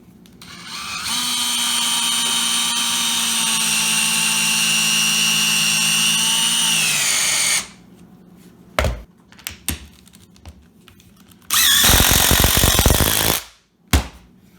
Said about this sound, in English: let me show you a little clip of a drill speed and an impact driver speed